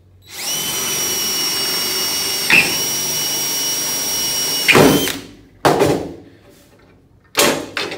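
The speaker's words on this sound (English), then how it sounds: "So I'm going to drill this, and I'm going to drill it right through both layers" A power drill bores through two layers of aluminum boat sheet with a steady high whine lasting several seconds, then winds down, followed by a few short sharp bursts, loud and close.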